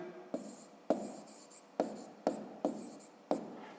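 A pen scratches across paper while a maths exercise answer is written out, in short bursts of strokes, each starting with a sharp tap, quiet and close with no talking.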